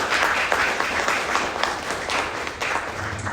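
A short burst of dense audience applause at a youth convention, steady and loud from start to finish with no one speaking.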